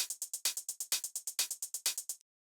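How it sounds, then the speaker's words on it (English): Layered hi-hat samples with a ride cymbal in a techno groove tick out a steady run of crisp, bright hits, some accented harder, before stopping abruptly; no voices. "After that, we have these hi-hats"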